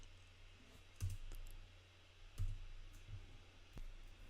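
Computer keyboard keys are pressed one at a time while navigating a file, giving a few sharp, isolated clicks spaced about a second apart against a very quiet background.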